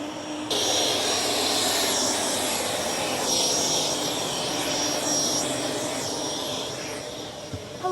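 Jet engines of a Fokker 70 airliner run at the gate, a loud steady roar with a high whine that fills the whole stretch without letup.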